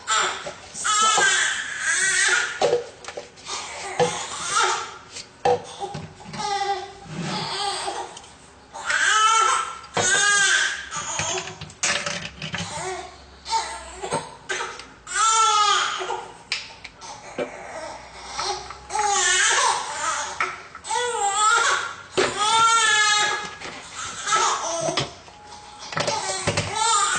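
A newborn baby fusses and cries in repeated wailing bursts with short pauses between, close and fairly loud, with an adult voice speaking at times in between.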